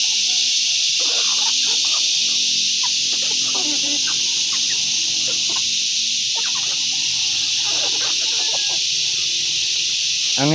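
Chickens cluck and call in short scattered bursts over a strong steady insect-like buzz outdoors, moderately near, with no clear talk.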